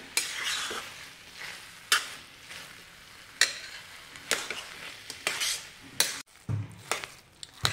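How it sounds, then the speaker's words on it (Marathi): Carrot halwa with khoa being stirred and sautéed in a pan, a steady bright sizzle punctuated by repeated sharp scrapes and knocks of the spoon against the pan, close and alone with no talk. "अजून एक 3-4 मिनिट हे छान मिश्रण परतून घेऊया."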